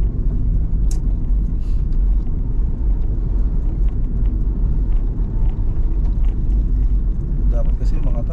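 Motor tricycle passing on a rural road in Solano, Nueva Vizcaya, heard as a steady engine rumble, close and loud throughout, under voices talking inside a moving vehicle.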